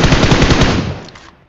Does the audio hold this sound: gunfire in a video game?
yes